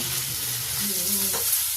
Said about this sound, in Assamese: মই এটা একেলগতে বিলাহী নহৰু আৰু পিয়াজটো একেলগতে ভাজি লৈছোঁ